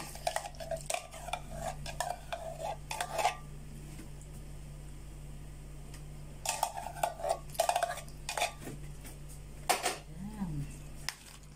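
A spoon stirs macaroni salad with fruit cocktail, pineapple tidbits and cheese in a bowl, giving repeated close clinks and scrapes in two bursts, with soft talk between them.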